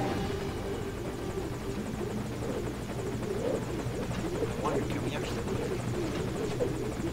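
Helicopter rotor from the video game Metal Gear Solid Ground Zeroes, a steady whirring drone held throughout, with someone talking over it.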